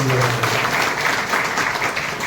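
Loud, dense applause from a crowd at a public gathering, continuous clapping for a couple of seconds right after a brief voice.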